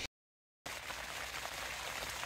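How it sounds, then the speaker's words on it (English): Rain falling on a tent at the Arctic Circle, heard from inside as a soft, even hiss of drops after a brief silent gap, faint and continuous. "It's been raining for like,"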